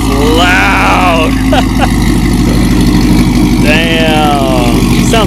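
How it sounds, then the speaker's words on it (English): A Corvette Z06 V8 fitted with long tube headers and a new exhaust idles loud and high right after a cold start. The steady rumble carries throughout while people talk over it. "Right now it's like the cold start or whatever"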